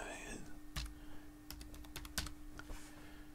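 Password being typed on a computer keyboard: a quick run of light, sharp key clicks, close and fairly quiet, with a faint steady hum underneath.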